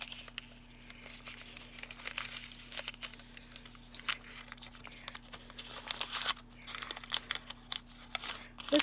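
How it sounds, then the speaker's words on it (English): A paper bag is folded and worked by hand to soften it, producing close, irregular crinkling and crumpling that grows louder and sharper toward the end. "This paper bag, even trying to soften it up, it's just not wanting to pleat"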